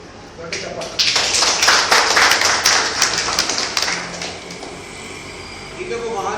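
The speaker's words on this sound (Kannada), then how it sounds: "ದೊಡ್ಡ ಚಪ್ಪಾಳೆ." An audience at a satsang meditation gathering breaks into sustained, crowded clapping that swells quickly, holds for several seconds, then thins out and fades, with a voice speaking over it.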